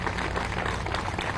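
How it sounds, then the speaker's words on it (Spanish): Crowd applause at a political rally in Anzoátegui, Venezuela, a steady dense wash of clapping filling the whole stretch without pause. "Camarada, un aplauso."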